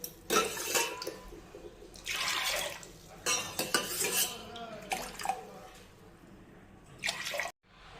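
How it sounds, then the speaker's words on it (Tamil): Water pours and splashes into a metal pressure cooker in several bursts, with clinks of metal and vessels between pours, fairly close and moderately loud. "இப்போ இதால் ரெண்டு டம்ளர் தண்ணி சேர்த்துக்கலாம்"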